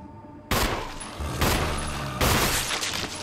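Gunfire in the survival horror game Resident Evil HD: three loud, close gunshot blasts arrive about a second apart, each followed by a short ringing decay, with no voices.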